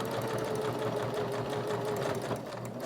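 A sewing machine runs steadily through a seam, stitching a magnetic wrist cuff and reversing back over the line at the edge, its fast even whir holding close and constant without pause.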